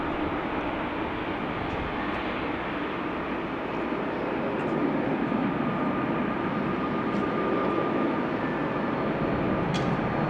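KLM Fokker 100 airliner at Amsterdam Schiphol Airport heard from a rooftop terrace: a steady, distant jet engine roar with broadband hiss holds evenly throughout, moderately faint, with no talk.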